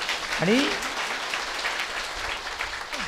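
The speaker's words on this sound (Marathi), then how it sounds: "सगळ्यांनी एकदा जोरदार त्यांच्याकरता टाळ्या वाजवायच्या" Audience applause at an award ceremony held along the Wari pilgrimage route: a steady, dense clapping wash throughout, with a voice speaking briefly over it.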